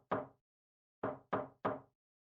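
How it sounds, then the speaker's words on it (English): Knocking on a bedroom door in a video game: one firm knock, a pause, then three quick knocks in a row, close and clear with silence around them. "Then I raised my hand to knock."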